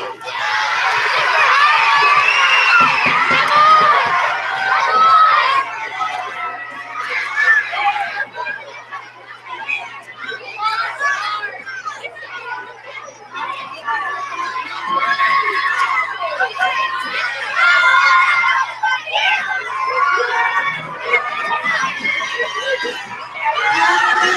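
Children at a school fundraiser cheer and shriek during a box building competition, a continuous high-pitched clamour of excited voices and shouting that surges and dips.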